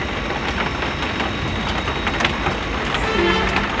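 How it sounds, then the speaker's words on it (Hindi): Steady rain falls continuously as a dense, even hiss and patter close by, unchanging for a few seconds, with no talking. "तो बारिश होगी स्टार्ट।"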